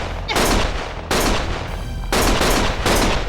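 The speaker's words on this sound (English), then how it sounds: "Stop shooting!" Heavy gunfire in the video game Lost Judgment: loud, dense volleys of shots in three long surging bursts, close and continuous.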